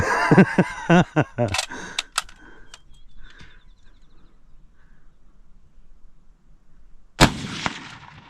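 A rifle firing powder-heavy shells outdoors in the Appalachian woods: several sharp, loud reports in quick succession near the start, a quiet stretch of faint ambience, then one more hard crack with a trailing rumble near the end.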